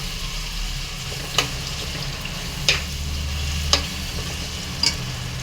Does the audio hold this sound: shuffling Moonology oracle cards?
no